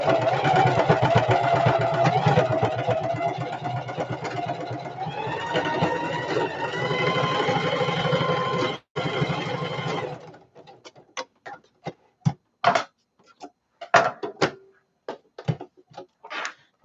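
A sewing machine stitches a shoulder bag, whirring steadily and close for about ten seconds, then breaks into short stop-start bursts of stitching with clicks and pauses in between.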